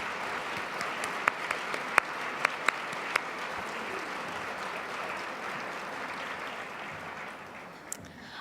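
A luncheon audience gives a steady round of applause, dense even clapping with a few sharper claps near the start, moderately distant and fading slightly toward the end.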